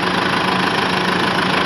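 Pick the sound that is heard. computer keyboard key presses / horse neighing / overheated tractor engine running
overheated tractor engine running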